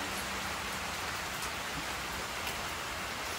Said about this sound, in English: Like getting married in a rainstorm.